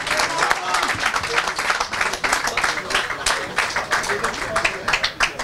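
Crowd applause fills a football club's 2017-2018 team presentation as a player is honored, steady broadband clapping throughout with voices mixed in underneath.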